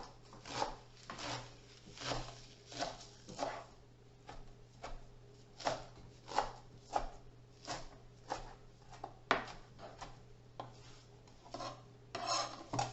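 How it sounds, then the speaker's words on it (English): A knife roughly chopping kale leaves on a cutting board in a home kitchen, a steady series of close, crisp rasping cuts repeating about twice per second with no talking. "roughly chop the kale into smaller pieces"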